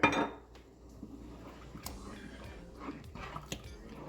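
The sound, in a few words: stirring chili sauce in a cooking pot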